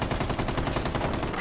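Sustained automatic fire from a light machine gun in a tactical shooter video game, a loud, close, evenly spaced rattle of rounds lasting throughout.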